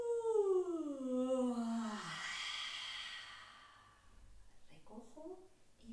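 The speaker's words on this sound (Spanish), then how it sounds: "En la siguiente vamos a bostezar, aunque no tengamos ganas." A long voiced yawn during a prenatal yoga session, sliding downward in pitch from a loud start into a breathy fade, followed by a quieter, shorter voiced sound near the end.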